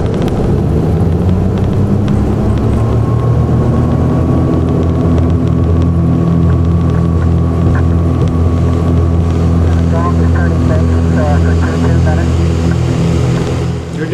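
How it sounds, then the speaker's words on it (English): A twin-engine Piper Seneca rolls out after landing with flaps coming up as power is added, its loud steady propeller drone holding throughout with a rising engine tone, sounding close and continuous. "the moment we land, Arna puts up the flaps and adds power."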